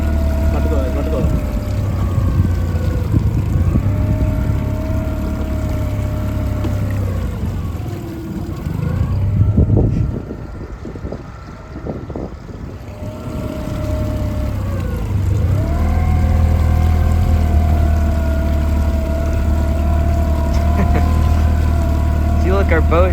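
A boat powered by a new outboard motor runs at medium speed during break-in, a steady close engine drone with tonal whine that dips briefly midway and then resumes, with people talking over it.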